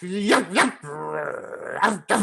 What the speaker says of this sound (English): What you hear is this yapping, growling noise